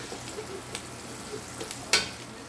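Onions frying in a pan over medium-high heat give a steady low sizzle, with a few light scrapes and clicks and one sharper clatter near the end.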